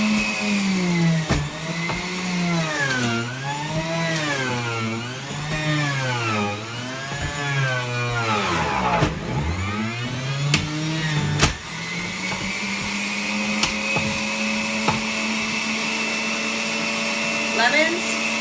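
An electric juicer grinding ginger whirs loudly and steadily, its motor pitch rising and falling in repeated waves as pieces are pushed through, then settling into a constant drone.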